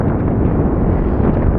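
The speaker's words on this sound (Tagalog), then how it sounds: "Ang hangin dito ngayon, mga amigo, ay 40 kilometer per hour ang hangin." Strong monsoon wind buffeting the microphone at sea, roughly 40 km/h, a loud continuous roar with no gaps and no voices.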